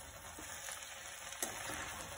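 Okra (bhindi) sizzles steadily in a pan while it is mixed with black pepper and degi mirch, a soft continuous frying hiss broken by a few light stirring scrapes.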